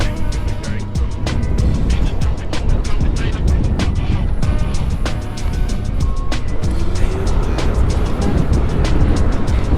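A homebuilt 72-volt electric enduro e-bike is ridden at full throttle, giving a loud, steady rush of motor whine and wind noise with sharp rattles and knocks throughout.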